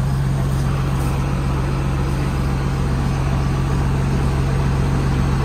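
A tractor engine runs steadily with the PTO hooked up, a low constant hum and drone at moderate level without variation or voices.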